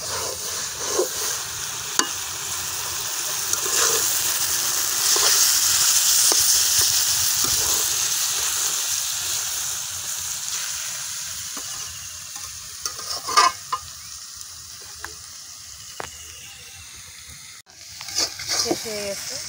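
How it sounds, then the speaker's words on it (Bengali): Ingredients for a Bengali greens dish with fish oil, fish roe and white sesame paste fry in a pan over low heat. A steady sizzle hisses throughout, broken by scattered clicks and scrapes of stirring. "এখন তাহলে আমি একটু ভেজে নেব।"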